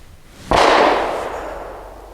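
A SAR 9C Gen 3 compact pistol fires a single shot of soft Sterling 115 grain ammunition, one sharp loud crack followed by a long fading ring with no talking.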